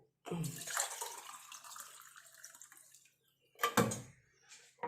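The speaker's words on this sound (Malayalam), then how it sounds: "നമ്മുടെ സംഭാരം ആയിട്ടുണ്ട് ഗ്ലാസ്സിലേക്ക് ഒഴിച്ച് കാണിച്ചു തരാം" Buttermilk pours steadily into a glass for a few seconds, stops, then a brief second splash follows.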